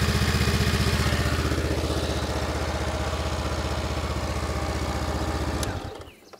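A Honda CB500X motorcycle idles after an oil change, its engine putting out a close, steady, even throb for about six seconds before it abruptly shuts off and falls quiet.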